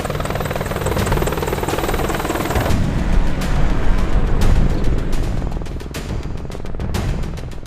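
Apache AH-64E attack helicopter flying past, a loud, close, continuous rotor roar with rapid blade chop that swells and then fades slightly toward the end, with no voices.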